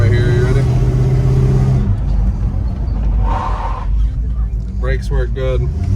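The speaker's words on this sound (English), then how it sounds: "We'll do a little brake right here." A 1973 Chevrolet Chevelle SS with a 350 V8 and automatic transmission drives with a steady engine drone, then slows under braking as the engine note drops, heard from inside the car with a person talking.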